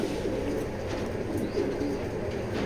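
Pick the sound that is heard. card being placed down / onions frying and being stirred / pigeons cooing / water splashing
pigeons cooing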